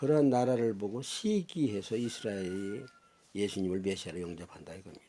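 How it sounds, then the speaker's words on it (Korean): Chickens crowing outside on a farm with about thirteen free-range birds, a faint, drawn-out crow in the background beneath steady close speech that continues throughout. "저는 제 농장에서 밖에 닭 울음소리를 들으면서 지금 이 녹화를 하고 있습니다."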